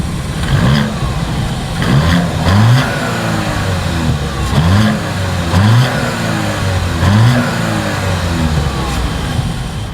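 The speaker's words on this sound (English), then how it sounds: "As always, here is that exhaust clip." 2025 Audi Q7 exhaust note as the engine is revved from idle: three close-up double blips climbing sharply in pitch and dropping back, over a steady low rumble outdoors.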